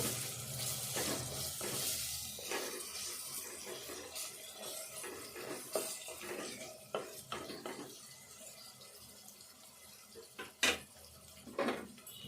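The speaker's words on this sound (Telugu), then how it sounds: "ఇప్పుడు అల్లము వెల్లుల్లి పేస్ట్ వేసుకుందాము. ఇదంతా కూడా వేపుదాము." Ginger garlic paste frying in a pan while cooking ridge gourd curry, a faint steady sizzle with occasional clinks of a spoon against the pan.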